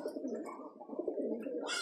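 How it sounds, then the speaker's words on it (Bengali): Pigeons coo softly in a low, continuous murmur, with faint chirps above and a brief higher squeak at the end, heard quietly and without voices. "আমার বাবার কবুতর, অনেকগুলা কবুতর আমার বাবার,"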